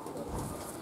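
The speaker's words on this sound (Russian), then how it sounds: "Сашка, давай голубей показывай." Sport pigeons cooing at a pigeon loft, a soft, steady, low murmuring heard up close for a brief moment, with no talking.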